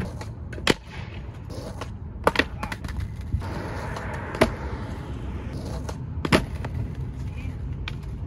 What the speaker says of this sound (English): I gotta send the kickflip at least.